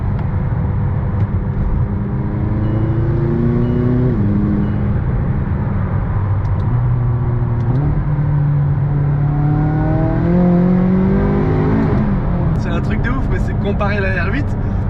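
Ethanol-tuned 600 hp Audi R8 V10 accelerating hard with wheelspin, a loud continuous engine roar with rising and falling revs through gear changes, close and steady, with someone talking over it throughout.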